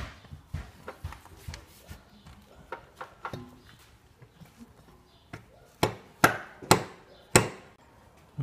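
A driveshaft is worked into the transfer case of a Nissan Murano Z51, with a string of sharp metallic knocks and clunks that grow louder and more widely spaced toward the end.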